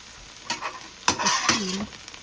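Chili tossed into a pan of frying okra crackles and hisses in bursts as a utensil stirs through it, with scraping strokes and a brief bright clink, close and fairly loud.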